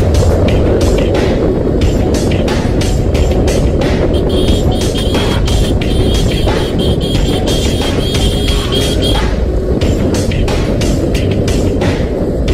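A motorcycle speeds along an open road, producing a loud, continuous engine roar mixed with rushing wind buffeting that holds steady throughout with no pauses.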